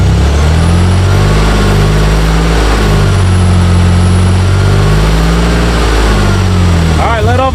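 Loud, close engine of a Pontiac Firebird after an injector upgrade, holding a steady strong rev with shifting pitch for several seconds and settling briefly near the end, with voices partly under the noise.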